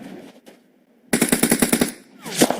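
A short burst of rapid automatic machine gun fire in the mobile battle royale game PUBG Mobile, about eight loud evenly spaced shots after a quiet start, followed by another loud blast near the end.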